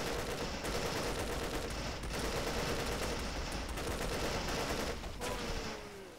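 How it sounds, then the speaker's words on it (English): A grenadier fires a grenade launcher during a Men of War: Vietnam battle, with steady rattling gunfire and repeated sharp reports layered over a constant dense combat din. "Our grenadier is firing."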